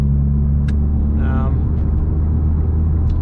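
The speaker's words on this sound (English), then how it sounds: "It's got the new turbo installed, so yeah, just letting the car warm up and cruising home at the moment." A Mitsubishi Evo X fitted with a new turbo cruises while warming up, giving a steady, loud low engine drone and road rumble throughout, with a brief whine and a few faint clicks over it.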